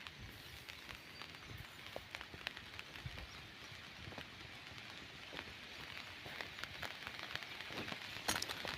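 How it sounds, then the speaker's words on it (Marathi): Rain patters steadily on an umbrella sheltering a farmer in a soybean field while a buffalo grazes nearby, a quiet, even shower of dense drops with occasional louder taps. "आला बघा पाऊस"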